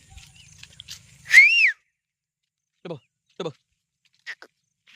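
A single short rising-falling whistle rings out to call sheep, followed by a few faint scattered animal calls in a quiet open space.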